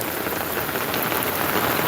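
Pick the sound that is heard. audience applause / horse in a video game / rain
rain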